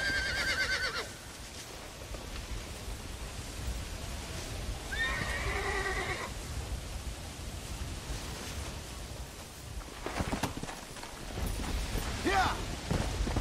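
Zombie horse from the game Red Dead Redemption: Undead Nightmare neighs in short bursts, with two or three whinnies standing out over a steady noisy game background.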